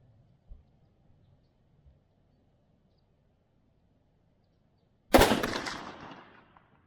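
A single loud rifle shot rings out near the end, fired while sighting in an ATN scope, its sharp crack trailing into a decaying echo after several seconds of quiet outdoor ambience.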